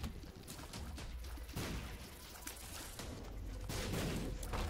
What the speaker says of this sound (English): Avoid the explosions, please.